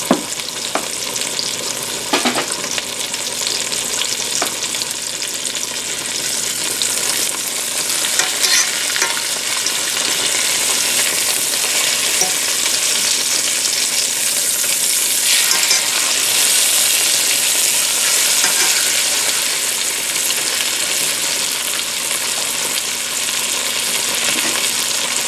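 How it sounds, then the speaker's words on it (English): Chicken sizzles and fries steadily in a pan for a Marry Me Chicken dish, a dense, continuous crackle with occasional stirring or scraping as the pieces are turned, close and fairly loud with no talking. "Okay, it's time to turn the chicken."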